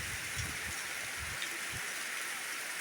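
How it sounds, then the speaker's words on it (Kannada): Heavy monsoon rain pours down steadily in a village in the Malenad hills, a dense continuous hiss with faint low thuds of drops near the start, no voices. "ಅಷ್ಟು ಜೋರಾಗಿ ಮಳೆ ಬರ್ತಾ ಇದೆ ನಮ್ಮೂರಲ್ಲಿ"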